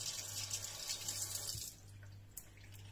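An apple rinsed under a running kitchen tap, a steady hiss of water that changes as the stream hits the fruit, then thins out to a quieter flow with a small clack; moderately close, no talk.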